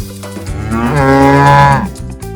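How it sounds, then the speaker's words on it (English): A single cow moos loudly and close by, drawn out for well over a second and rising then falling, with soft music underneath. "Cow."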